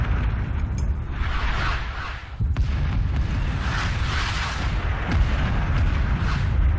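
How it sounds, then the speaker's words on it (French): Artillery explodes in the Vietnam War shooter game Rising Storm 2: Vietnam, a loud, continuous rumble of heavy booms and blasts that rolls over one another with no pause. "Je me suis pris l'artillerie, bravo."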